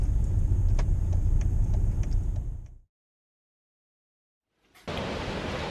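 Steady road and engine rumble from inside a moving car, loud and continuous, dropping abruptly into silence before resuming at the same level; no talk over it.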